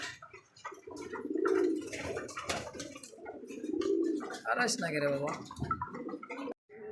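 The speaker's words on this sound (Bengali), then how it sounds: "একজোড়া ব্ল্যাক কালারিং কবুতর দুইটাই" A pair of black pigeons coos close by in low, rolling phrases that rise and fall over several seconds, mixed with nearby talking.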